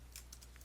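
Soft, quick keystrokes on a computer keyboard, about four faint clicks in under a second over a low steady hum, with no talking.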